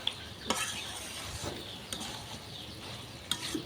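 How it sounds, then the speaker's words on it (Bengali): Beef liver cooks in a pan with spices, with a low steady sizzle and occasional sharp scrapes and clinks of a spoon stirring, close but quiet. "কলিজাটাও এখন আর কি অনেকক্ষণ কষিয়ে নেব"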